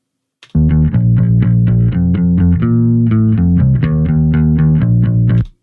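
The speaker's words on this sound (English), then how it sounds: "It was already a bit distorted to begin with, so it was a nice amp tone" A loud, sustained distorted guitar plays a classic rock chord progression for several seconds, thick and buzzy with steady picking.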